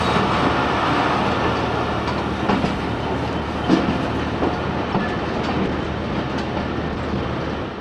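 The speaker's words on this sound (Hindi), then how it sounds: "तो भाई डिपार्चर हुआ हमारे ट्रेन का खानपुर से 11 बजे सुबह के।" A Pakistani DS special inspection train runs nonstop on the rails from Khanpur toward Rohri, its steady dense rumble filling the whole span with faint clickety-clack and occasional wheel knocks, no voices.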